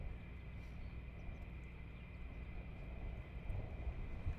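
F-15 jets start up at RAF Lakenheath, heard as a faint, distant, steady roar with a constant high whine above it, swelling slightly toward the end.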